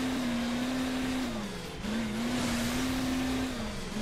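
Scooter engine in the mobile racing game Hill Climb Racing 2: a steady, loud buzzing drone that dips briefly in pitch midway, then climbs back and holds, with no talk over it.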